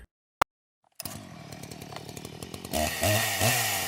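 An anime chainsaw made from blood starts up after a sharp click and brief silence, then its motor chugs with a rhythmic rattle and revs louder toward a high roaring whine.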